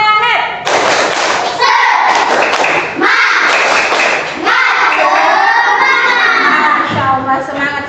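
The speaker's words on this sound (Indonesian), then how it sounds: "mari kita tepuk semangat untuk mengecek semangat kita pagi-pagi" Schoolchildren do a rhythmic spirit clap in a classroom, bursts of synchronized claps and thumps alternating with loud group chanting and shouting, close and energetic throughout.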